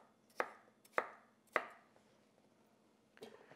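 A knife cuts through potato onto a cutting board in three evenly spaced thuds, followed by a softer fourth cut, close and quiet with no voices.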